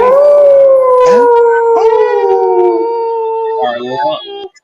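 A loud, sustained wolf-like howl sound effect, a long wavering cry that slowly falls in pitch over several seconds before breaking into shorter yelping calls at the end, with no voices.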